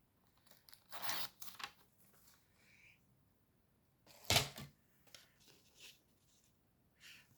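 Paper being cut for scrapbooking with scissors, a few sharp crisp snips and rustling bursts separated by quiet pauses, close and alone.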